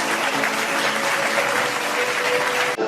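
Dense, steady applause from an audience at an alumni meet of LTIPS Pune and LTIP Kharghar, loud and continuous, cutting off abruptly near the end.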